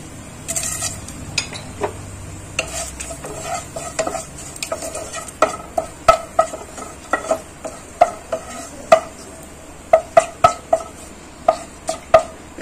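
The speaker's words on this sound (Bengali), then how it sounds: "আমি এখানে তেজপাতা আর হচ্ছে দারচিনি আর এলাচটা ফোড়নে দিয়ে দেব" Bay leaf, cinnamon and cardamom sizzle in hot oil in a pan, under a run of sharp metallic spatula taps and scrapes that turn into a brisk, regular clinking rhythm toward the end.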